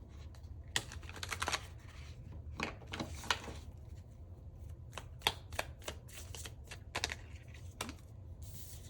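Tarot cards being shuffled in a quiet room, a string of crisp riffling bursts and soft slaps with short pauses in between, close and fairly quiet.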